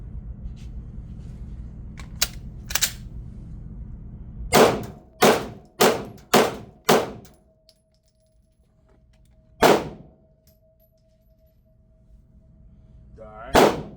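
A handgun fires five rounds in a quick, even string of loud, sharp cracks. A couple of lighter clicks come before the string, and one more shot rings out alone a few seconds later against a quiet background.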